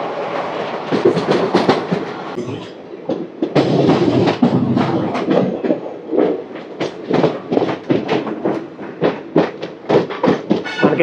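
The 12711 Pinakini Superfast Express runs from Vijayawada toward Chennai, heard from on board as a loud, continuous rumble with rhythmic clickety-clack of wheels over rail joints and shifting rattles throughout.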